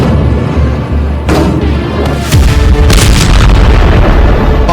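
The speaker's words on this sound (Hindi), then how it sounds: "घुप अंधेरे में दक्षिणी लेबनान में सीरियल धमाकों का ये पार्ट 2 है" Serial explosions from bombing in southern Lebanon at night: a string of heavy, rumbling booms rolls out one after another, loud and continuous, with sharp bursts layered over a deep low roar.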